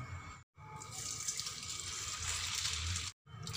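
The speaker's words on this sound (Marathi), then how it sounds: "आता हे पोहे धुवून घ्यायचे. एका बाउलमध्ये टाकून घेते मी." Water runs steadily while thick poha (flattened rice) is washed in a bowl, a continuous close splashing rush that stops briefly twice.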